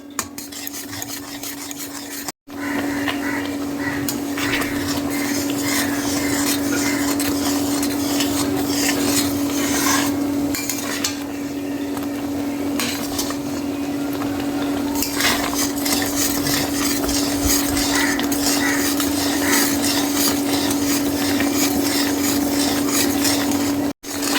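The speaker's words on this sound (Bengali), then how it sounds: "টমেটোর জুসটা ফুটতে শুরু করেছে।" Tomato juice sauce for a homemade vegetarian ketchup bubbles and is stirred in a pan, giving a steady close scraping and stirring sound that runs continuously for about twenty seconds with no talk.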